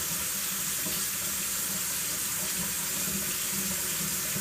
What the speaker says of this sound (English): Wash it all down.